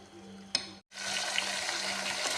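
Green chicken gravy masala frying in a pan, a broad hissing sizzle that drops out briefly near the start and then returns steady and fairly loud.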